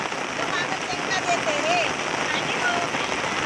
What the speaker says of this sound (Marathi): बघ पाऊस ना म्हणजे थांबवचं नावच घेत नाही